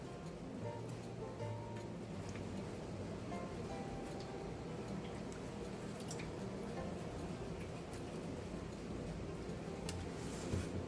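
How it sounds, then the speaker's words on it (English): Close, wet dripping and squishing as paper soaked for eco-dyeing is lifted from water, a steady patter of drops over a continuous liquid rustle. "just dip that into my water"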